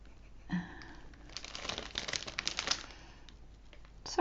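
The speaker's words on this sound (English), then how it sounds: "Sorry about the crinkling." Paper or packaging crinkles close by in a quiet room during colour drawing on Fabriano Artistico paper, with a busy burst of rustling in the middle of a few seconds of soft handling sounds.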